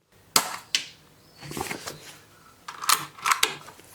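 A Weihrauch HW100 air rifle fitted with a 3D printed magazine fires and is cycled, giving sharp isolated cracks followed by clustered mechanical clicks and clatter, close and crisp with quiet gaps between.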